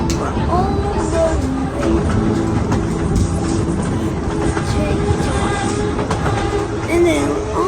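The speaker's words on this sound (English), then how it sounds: "We're driving the train more." A mini train ride runs along its track with a continuous rumble and rhythmic clicking throughout. Faint voices are heard under the running noise.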